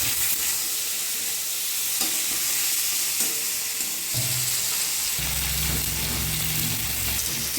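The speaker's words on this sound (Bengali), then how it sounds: "চিংড়ি মাছটা ভেজে নেবো।" Prawns fry in oil seasoned with salt and turmeric, giving a steady close sizzle with stirring scrapes, and the frying grows louder and fuller partway through.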